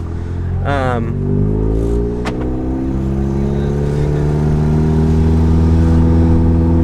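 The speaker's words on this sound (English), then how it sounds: "this new transmission tune does make my gear changes a lot more aggressive" A car engine pulls hard and revs up with a sharp DSG gear change early on, then climbs steadily in pitch as it accelerates, loud and close.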